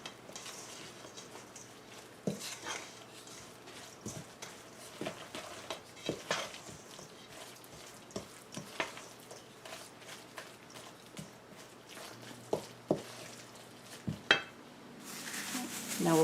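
Eggs being mixed into meatball ingredients in a bowl, with a utensil clinking and scraping against the bowl in irregular taps and stirs, fairly quiet and close, with no talking.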